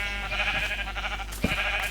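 Goats in the Minecraft video game bleat in short, wavering calls over a steady game background, with a sharp hit sound near the end.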